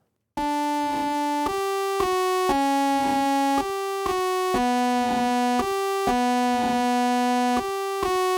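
A processed, saturated synth-like tone made from a dry egg sample through a resonator, repeating in a steady two-pitch pattern of short sustained notes, bright and buzzy with a resonant ring, loud and alone.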